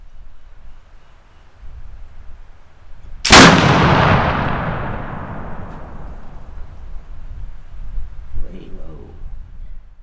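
A short-barreled black powder gun fires once at medieval plate armor outdoors, a single loud sharp blast with a long decaying boom and rumble, then quiet ambience with a faint rustle.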